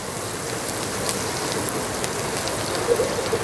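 Chopped onion and green chili sizzle in hot oil in a pan for a curry with fish and sweet pumpkin, a steady dense crackle with small pops near the end, no talking.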